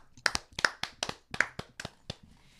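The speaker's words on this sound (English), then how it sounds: "Let's clap." A small group claps on a morning radio show, a short burst of uneven handclaps close to the microphone that tapers off after a couple of seconds.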